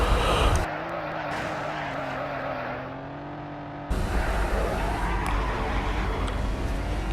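A Toyota Supra MK4 drives and skids in a Roblox game, with a sustained engine drone and a tonal whine, a sudden cut, then a harsher grinding tire-skid roar continuing to the end.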